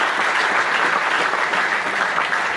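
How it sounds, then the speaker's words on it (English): Steady, dense applause from a large crowd of cadets fills the space at a cadet college award ceremony, clapping continuously and loudly throughout with no pauses. "Cadets, a big round of applause for our chief guest and all other field"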